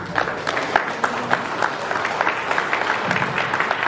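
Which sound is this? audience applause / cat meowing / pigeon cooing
audience applause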